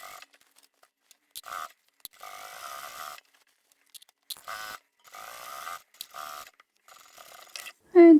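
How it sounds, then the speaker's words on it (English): A sewing machine top stitching a fabric bag made from scrap fabric, running in short whirring bursts separated by pauses and small clicks, close and clear. "As I come around and do the top stitching"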